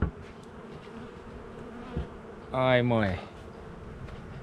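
Robbing bees buzz steadily around a hive in a Slovak apiary, with a sharper, louder swell of buzzing from one bee passing close by midway, and someone speaks briefly.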